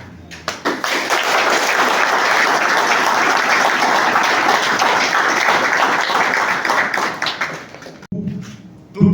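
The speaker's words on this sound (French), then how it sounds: "Je pense que nous devons les applaudir pour ces projets qui nous ont amenés." Sustained audience applause at a public meeting in Matadi, a dense wash of many hands clapping for about eight seconds before it cuts off abruptly, followed by a brief quieter stretch.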